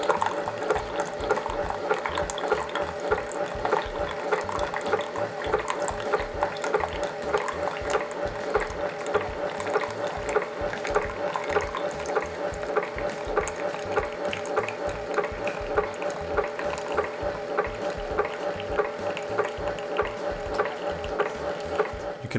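A Keurig 2.0 single-serve coffee machine brews a cup, giving a continuous rapid mechanical ticking and pumping with a gurgling, hissing rush of hot water, steady and close for the whole stretch with no talking.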